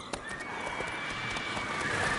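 Roach the horse in Witcher 3 gives a short whinny over hoof clip-clop and a faint high game tone, all brief and moderately close.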